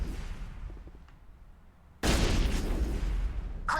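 Gunfire in the Mass Effect video game opens with a quiet, muffled stretch, then a loud burst of rapid shots and booms that continues in a dense barrage.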